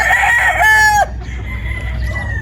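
A white Kelso gamefowl rooster crows once on a Batangas farm, a loud, close call held for about a second before it breaks off, followed by quieter farmyard background.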